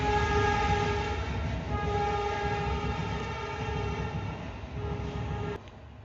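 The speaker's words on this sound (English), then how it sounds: "Yes, train has moved." A train moves past outside with a loud, sustained rumble of rolling wagons and sustained horn-like tones that stop abruptly near the end.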